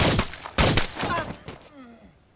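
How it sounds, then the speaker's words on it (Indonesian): Gunfire in a scene from the film Sicario, a burst of sharp loud shots crowding together and then ringing off into a fading tail, close and forceful. "Seketika, Alejandro menembak mati Silvio"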